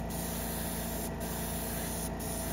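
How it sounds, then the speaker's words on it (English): A Black Widow airbrush compressor runs while the airbrush sprays, giving a loud, continuous, even hiss of air that holds steady throughout with only slight periodic dips. "You hear the compressor kicking in, but that pressure is holding steady."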